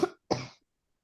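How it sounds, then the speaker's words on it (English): Two quick, close coughs from a person on an online tech meetup call, a short harsh burst followed after a brief pause by a longer rasping one, then silence. "I'm just having a bad cough"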